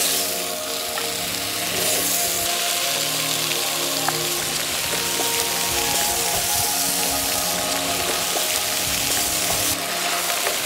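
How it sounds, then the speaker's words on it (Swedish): Sliced potatoes fry in oil spread across a whole griddle, a steady dense crackling sizzle that holds evenly at close range throughout, with no talk over it. "Och här använder jag hela stekhällen när jag steker potatisen."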